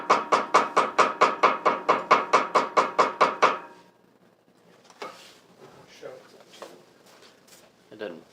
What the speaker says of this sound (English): you can take a smooth-faced hammer